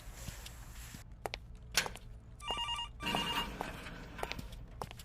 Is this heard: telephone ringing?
yes